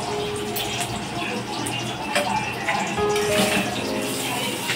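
Water drains off freshly boiled vegetarian chow mein noodles in a steady, gushing stream that pours close and loud, with a voice faintly audible underneath.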